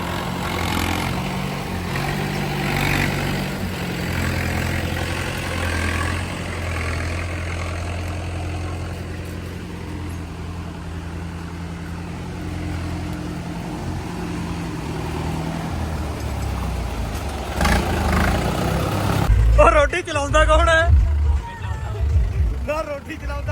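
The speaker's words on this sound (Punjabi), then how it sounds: "ਗੇਅਰ ਪਾ ਕੇ ਰੇਸ ਦਿੱਤੀ ਹੋਈ ਹੈ" A 575 tractor engine running in gear with raised throttle and no driver, a steady low rumbling drone held throughout, with louder rattling bursts near the end, heard under people talking.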